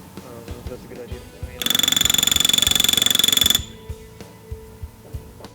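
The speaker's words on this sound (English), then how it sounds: "All the pressure will be on the rivet gun" A pneumatic rivet gun fires in one rapid, loud hammering burst lasting about two seconds. Quieter clicks and soft voices surround the burst.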